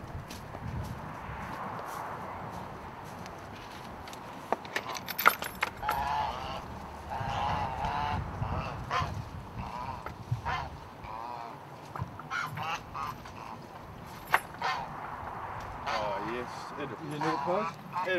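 Geese honk repeatedly at a middle distance in an outdoor farmyard while people talk over them, with scattered clatter and handling noises.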